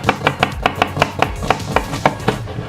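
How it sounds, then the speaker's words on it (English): Knife dicing an onion on a cutting board, about a dozen crisp evenly spaced chops in a quick steady rhythm, close and fairly loud with no talk. "I just went and diced this onion"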